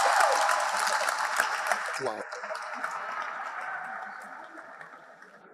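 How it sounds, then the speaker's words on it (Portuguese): An audience claps at a church sermon in Accra, Ghana, a dense, sustained roar of applause that slowly fades while a single voice briefly exclaims. "Palmas para o bom samaritano."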